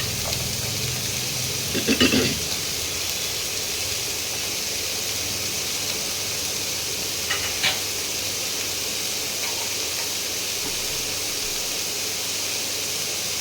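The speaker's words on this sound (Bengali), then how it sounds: "এই আলুর মধ্যে মূলো কুচিয়ে রেখেছিলাম, এই মূলোটাও দিয়ে দিচ্ছি, একসঙ্গে ভাজা হয়ে যাবে" Potatoes and chopped radish frying together in a pan, giving a steady, even sizzle throughout, with a couple of brief clinks of stirring.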